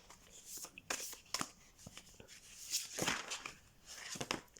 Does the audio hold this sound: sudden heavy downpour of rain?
no